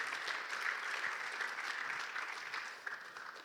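Congregation applauding during a church sermon, a continuous dense clapping that stays fairly far off and quiet, swelling slightly and then easing toward the end, with no speech.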